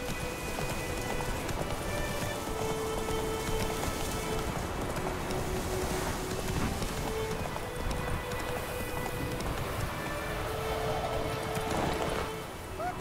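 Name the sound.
rain falling in the video game Witcher 3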